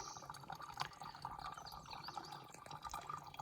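Water trickles from a natural spring along a trail in Oregon. The flow is faint and close, with a gentle babble and scattered small drips, and no one speaks.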